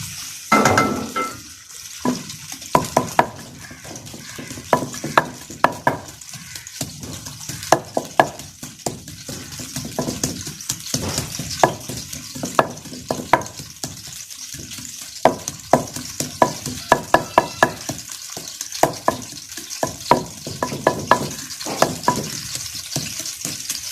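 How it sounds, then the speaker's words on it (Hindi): Onions sizzle steadily in hot oil in a pan on a home stove, with frequent sharp clicks and scrapes of a spoon stirring them, continuous and close with no talking. "ये हमारा गर्म हो चुका है, ये मैं इसमें प्याज डाल रही हूँ। अब हमने प्याज को हल्का ब्राउन करना है।"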